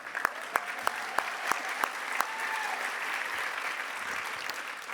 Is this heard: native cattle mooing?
no